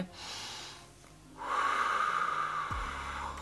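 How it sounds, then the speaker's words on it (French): A person takes a deep breath close to the microphone, drawing a long, audible inhale and then letting out a steady exhale. "je t'invite à prendre un grand souffle"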